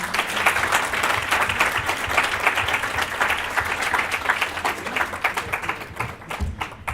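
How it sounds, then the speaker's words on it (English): Sustained applause from an audience, dense clapping filling the room at a steady level for several seconds, no voices standing out. "Let's give him another round of applause."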